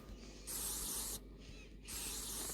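An aerosol spray can hisses in two bursts of about a second each, separated by a brief pause, close and steady.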